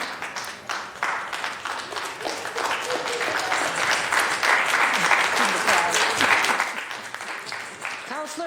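Sustained applause fills a city council chamber as community panelists are called down for questions, steady and fairly loud clapping with cheers and voices mixed in throughout, faint calls rising near the end.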